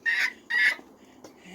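Chickens and a rooster call out loudly in two bursts of crowing and clucking, followed by a fainter squawk, in a backyard flock at feeding time.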